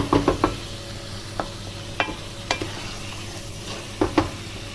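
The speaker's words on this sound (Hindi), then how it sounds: "चिकन को तकरीबन हमने 5 मिनट तक भूनना है इसको" Chicken being stir-fried in a karahi for a Sindhi-style namkeen karahi with green chillies, with a steady close sizzle of frying and occasional scraping spoon clinks against the pan.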